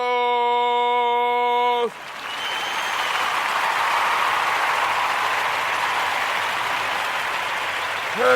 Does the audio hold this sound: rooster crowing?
no